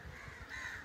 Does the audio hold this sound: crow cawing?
yes